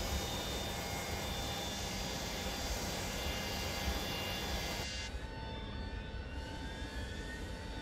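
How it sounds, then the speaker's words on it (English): Inside a Boeing 727-200 in a flight simulator game, the APU spools up as a steady, loud turbine whine with thin high tones, its pitch and texture shifting partway through. "APU's coming in."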